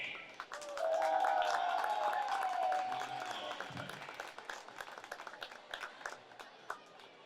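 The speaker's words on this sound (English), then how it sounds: "how about a nice round of applause for the Lake High School Pep Band" Crowd applause rises in a high school gym for the Lake High School Pep Band, swelling quickly into dense clapping, then thinning into scattered claps.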